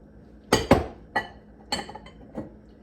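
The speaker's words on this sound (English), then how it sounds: "I'm going to scoop this in here" A utensil scooping food into a dish, with five or six short clinks and knocks spaced unevenly, the first two loudest.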